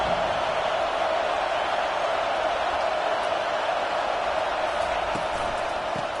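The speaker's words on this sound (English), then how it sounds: "Listen to this crowd just shaking the girders of this place" Stadium crowd roaring at a football game against Georgia, a broad, sustained wall of cheering that stays loud and steady throughout, with a commentator's voice faintly under it.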